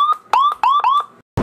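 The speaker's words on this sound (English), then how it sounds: "LT is gonna hit the siren" Several short rising electronic whoops from a Florida Highway Patrol Dodge Charger RT Hemi Pursuit Package police siren, chirped in quick bursts, loud and close, ending abruptly.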